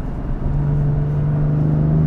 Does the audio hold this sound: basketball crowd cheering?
no